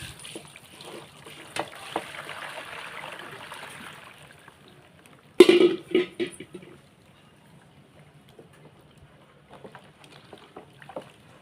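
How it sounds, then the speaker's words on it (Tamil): Hot water poured over a kitchen chimney part during cleaning, a broad steady splashing trickle for the first few seconds, followed by a sharp clatter and a few knocks, then quiet. "இப்போ இதுக்கு மேலே நான் சுடு தண்ணி ஊற்றிக்கிறேன்."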